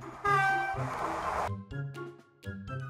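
A freight train sounds a loud, brassy horn blast for about a second, followed by a run of short, rhythmic low thumping pulses that come and go.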